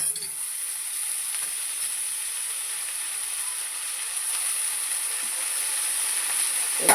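Chirri greens hit a hot pan for a bean, chirri leaf and egg fry, giving a steady, close, even sizzle with a bright hiss that holds throughout, no voices.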